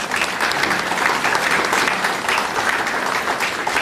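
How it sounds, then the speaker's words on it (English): An audience at a high school hall of fame ceremony gives a warm round of applause, a continuous, even wash of many hands clapping at once throughout. "Give them a nice round of applause."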